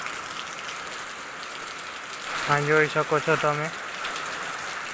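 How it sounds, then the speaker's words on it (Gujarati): Heavy rain falling over a village seen from a rooftop terrace, a steady soft hiss throughout, with someone speaking briefly midway over it. "ફૂલ વરસાદ ચાલુ છે હમણાં."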